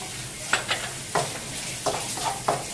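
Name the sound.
stirring a pan with added olives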